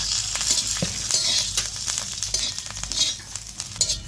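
Green chillies, garlic and cumin roasting in a little oil on a griddle, heard as a loud, close, steady sizzle with stirring scrapes and small clinks on top, and no voices.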